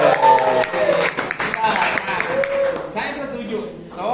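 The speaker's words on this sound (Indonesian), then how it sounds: "Tepuk tangan sedikit ya." A school class claps hands in a classroom, a short, scattered patter of claps mixed with talking and voices throughout.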